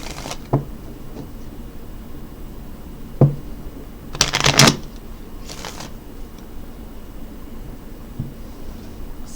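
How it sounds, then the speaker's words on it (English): A deck of kitty cat tarot playing cards being shuffled: a few quick papery riffles, then a longer burst of shuffling in the middle and a couple of softer flicks, close up and with no talk. "I'm going to go ahead and shuffle up the kitty cat tarot, or the kitty cat playing cards now"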